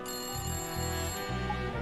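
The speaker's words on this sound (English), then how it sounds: "Oh, that's the phone." A telephone rings in the video game Layton Brothers: Mystery Room, a steady electronic trill that continues unbroken and loud over a soft, low rhythmic backing.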